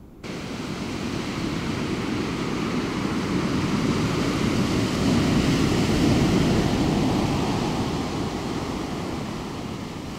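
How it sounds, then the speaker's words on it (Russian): Steady swell washing up on a wild seashore in calm weather, a dense, close roar of surf that swells gently toward the middle and eases off, with nobody speaking. "А вот волнуется море."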